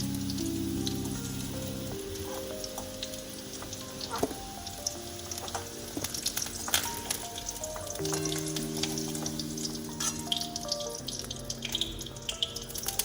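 Potatoes fry in mustard oil for a cauliflower and shrimp curry, a steady close sizzle with occasional crackles that runs throughout beneath soft background music.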